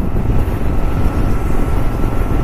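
A TVS Ntorq 125 scooter riding at speed, its engine drone buried under steady, loud wind roar across the whole stretch, with no pauses or talk.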